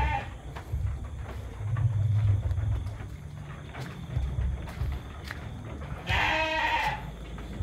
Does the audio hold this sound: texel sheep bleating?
yes